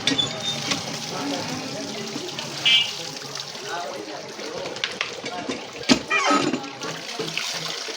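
Water poured over cut sucker fish to soak them: a continuous splashing pour close by, with a person talking over it.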